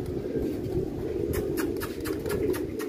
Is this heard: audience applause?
no